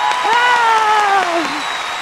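Applause from a comedy show audience forms a noisy, even wash beneath a loud, sustained voice that slides downward in pitch, on the Kannada stage show Majaa Bharatha.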